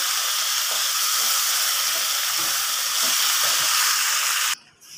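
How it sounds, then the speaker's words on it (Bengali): Meat sizzles steadily in hot oil in a pan, a loud, continuous broadband hiss that holds for several seconds before cutting off abruptly near the end. "এদিকে মাংসগুলো আমার ভাজা হয়ে গেছে অলরেডি।"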